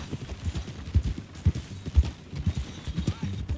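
Horse hooves clip-clop in the Red Dead Redemption II video game, a steady run of muffled, fairly close hoofbeats at a trotting rhythm.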